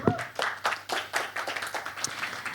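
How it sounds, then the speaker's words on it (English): Conference audience applauding the moderator and panelists at a renewable energy forum session, a lively burst of uneven hand claps with distinct sharp peaks, fairly close and without talk. "Another round of applause,"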